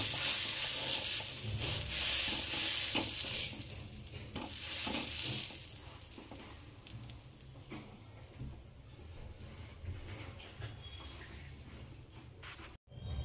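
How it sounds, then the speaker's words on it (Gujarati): Pav bhaji vegetable mash sizzles in a hot pan while a spatula stirs and scrapes it, loud and close at first, then settling to a softer frying hiss before cutting off abruptly. "જે ભાજી છે એ જ લઈ લીધી છે, આ રીતના આપણે શેકી લેવાનો છે"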